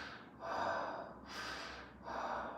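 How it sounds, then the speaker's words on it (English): Deliberately improper chest breathing, shown as a lesson in coping with stress: close, audible breaths, a sharp inhale, a drawn-out exhale, then another strong inhale. "I could show you the improper way to breathe at first"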